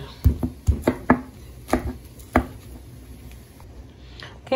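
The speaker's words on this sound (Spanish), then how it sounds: "I'm done grinding the garlic" Garlic being ground in a stone molcajete for homemade salsa, a series of sharp, close pounding and scraping knocks in an irregular rhythm, strongest early and then thinning out, with no talking.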